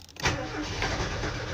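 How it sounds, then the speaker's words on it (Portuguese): A car engine cranks and fires after a brief quiet lead-in, then settles into a steady mid-level running hum, close by with no talk. "Quando eu ligo o contato do carro"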